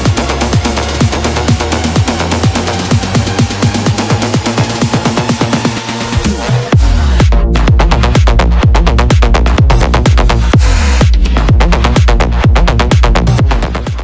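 "Biochemical" by Martin Garrix and Seth Hills plays loudly: a dense electronic build of rapid pulsing synths and drums gives way to a heavy drop with pounding kicks and a thick bass.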